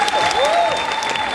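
Loud, dense applause from an audience at a Russian university pageant greeting hockey champions, a steady wash of clapping overlaid by sustained electronic tones and a gliding, voice-like sweep.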